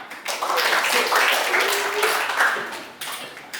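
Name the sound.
classroom applause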